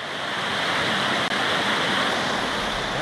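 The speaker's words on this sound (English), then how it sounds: "Beautiful tumbling waterfalls, right." Water tumbling down a waterfall on East Water on Exmoor, a steady, close, full rush that carries unbroken for the whole stretch.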